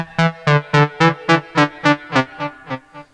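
A bright vintage lead synth sound from GarageBand on an iPhone 5 plays about ten repeated staccato notes in a steady rhythm, each with a sharp attack, slowly fading in level toward the end.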